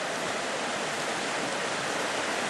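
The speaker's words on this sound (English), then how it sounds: "Why don't you pour most of the water out of that first?" Water pours steadily out of a container during creek-side gold panning with a riffle sluice, a broad continuous splashing rush, close and loud, with no voices over it.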